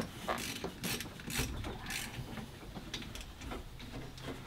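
A wrench ratchets a nut tight on the starter generator of a 2001 Club Car DS gas golf cart, giving quiet close clicking and mechanical creaking in irregular short bursts.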